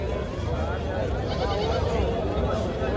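Goats bleat amid a crowded Sunday goat market on the Ahmedabad riverfront, a dense wash of animal cries and background chatter, with someone talking loudly over it throughout.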